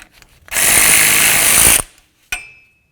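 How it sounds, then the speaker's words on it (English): A power tool, likely an impact wrench, zips loudly for about a second as it breaks loose the front axle nut on a 2007-2017 Ford Expedition, followed by a sharp metallic clink. "Now let's remove our axle nut."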